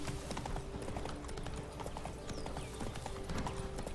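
Hooves of a horse in The Witcher 3 game clip-clop in a steady, close rhythm, with soft game ambience running underneath and no talking.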